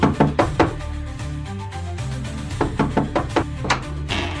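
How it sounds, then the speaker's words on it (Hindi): Loud knocking on a door at night: two separate bursts of heavy, rapid raps, close and forceful, over a low musical background. "तभी दरवाजे पर जोर से दस्तक होती है।"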